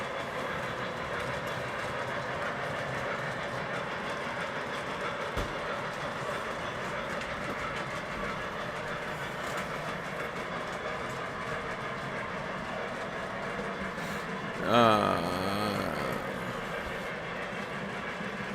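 O-scale model trains run on a Conrail-themed layout in a steady, moderately loud rolling rumble and clatter, with a brief louder squeal or horn-like burst near the end.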